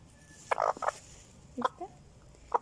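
A few short chicken calls come in quick bursts, clucking and gobbling sounds with gaps between them, fairly faint against a quiet background.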